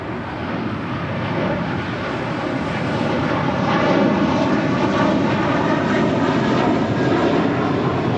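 An airliner takes off from runway 25 right at LAX, its jet engines roaring in a loud, sustained broadband rumble that swells slightly as it builds power, heard from a distance with no talk.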